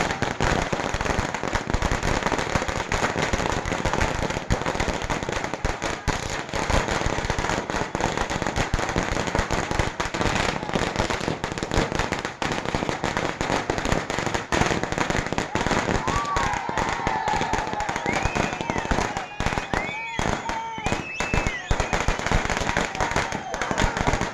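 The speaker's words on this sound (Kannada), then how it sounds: "ನಂದಿ ರಮೇಶ್ ಅಭಿಮಾನಿಗಳು ಪಟಾಕಿ ಸಿಡಿಸಿ ಬೃಹತ್ ಆಕಾರದ ಹೂವಿನ ಹಾರವನ್ನು ಹಾಕಿ ಹೂಮಳೆ ಸುರಿದು ಯುವ ಮುಖಂಡ ನಂದಿ ರಮೇಶ್ ರವರನ್ನು" Firecrackers bursting nonstop at an outdoor birthday celebration for a political leader, a dense loud crackling barrage lasting the whole stretch, with faint crowd noise underneath.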